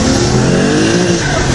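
Turbocharged BMW M3 with stock exhaust floored at full throttle, a loud, close, sustained engine roar blended with harsh tire squeal as the car slides, continuous and intense throughout.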